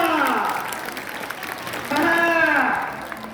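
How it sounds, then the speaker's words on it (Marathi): Audience applause fills a lecture hall at Bharati Vidya Mandir school in Tasgaon, Sangli: a steady, moderately loud wash of clapping lasting several seconds, with a voice rising over it partway through. "दोषी टाळ्या, टाळ्या, टाळ्या"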